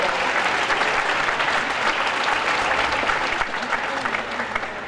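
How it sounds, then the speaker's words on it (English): A crowd applauds loudly and steadily, the clapping holding without a break for about five seconds. "Let's give him another round of applause."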